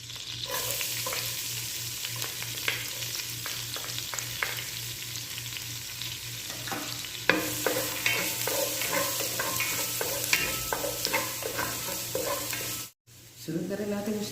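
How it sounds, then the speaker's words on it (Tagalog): Garlic sizzles steadily in hot oil and melted butter for a chicken afritada, a continuous close frying hiss broken by scrapes and clicks of stirring, with a brief drop to near silence before the sizzle resumes. "Yung ating tinakang mantika, butter. Susunod natin mga ka-recipe yung ating garlic."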